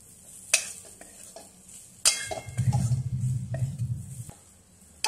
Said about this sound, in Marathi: आपण त्यामध्ये थोडीशी कोथिंबीर घालून एक हलवून घेऊ अर्धा मिनिट